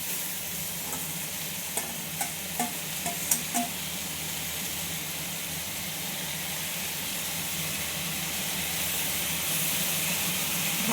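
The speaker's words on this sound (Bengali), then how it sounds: "এই ভাজা আলুটা মিশিয়ে দেবো।" Fried potatoes stirred into snake gourd frying in a pan, with a steady close sizzle and a few sharp spatula taps and scrapes early on, then continuous hissing.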